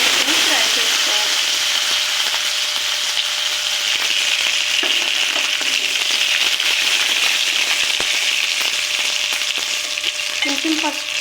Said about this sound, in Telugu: అలాగే ధనియాలు వేసుకుని ఆవాలు 2 మిర్చిని, కరివేపాకు, కొత్తిమీర కూడా కొంచెం వేసుకొని ఫ్రై చేసుకోవాలి